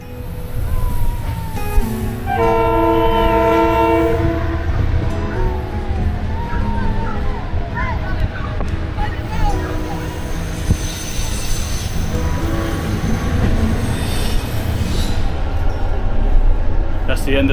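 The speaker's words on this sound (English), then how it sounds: "on a very noisy train" A loud, noisy train ride in Macedonia, with a constant heavy low rumble and rattling throughout, while a person talks over it.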